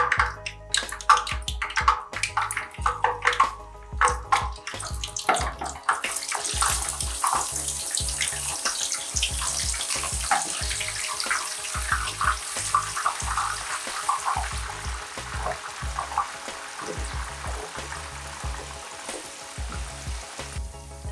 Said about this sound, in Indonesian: goreng secukupnya bawang merah